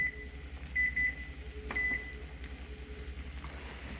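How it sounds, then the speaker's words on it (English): A kitchen timer goes off while sausage gravy and biscuits are cooking, giving a few short, fairly loud tonal beeps in two brief bursts over a low steady hum of kitchen background. "my timer's going off."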